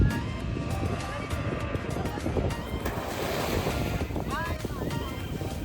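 Ocean waves wash steadily onto the shore at Shivrajpur beach, a continuous rolling roar mixed with wind buffeting the microphone, with voices mingling in the background.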